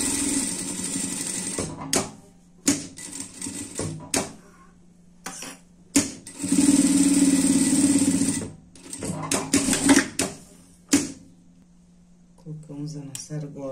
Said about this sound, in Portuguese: E vamos passar uma costura aqui.